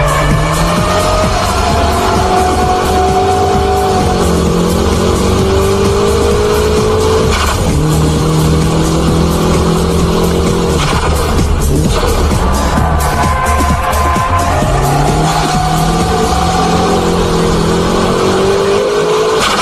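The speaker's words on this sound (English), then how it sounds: "High-speed drifting, traction recovery is very quick, even during the counter-steering work." A car drifting at high speed, its engine revving and rising and falling in pitch through repeated gear changes and throttle swings, with intermittent tire squeal. The sound is loud and continuous, with no talk.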